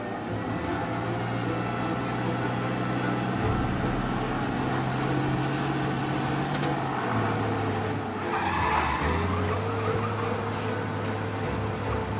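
A loud car engine roars continuously at speed, with tires squealing and skidding partway through, during a police chase in the video game Mafia: Definitive Edition.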